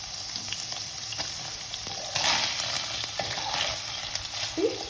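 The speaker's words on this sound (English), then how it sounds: "Fry your paneer and remove them" Paneer fries in a pan with a steady, loud sizzle and crackle, punctuated by occasional stirring clinks and scrapes, close by with no talk.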